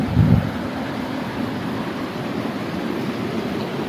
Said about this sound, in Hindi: पुल से आ रहा पानी।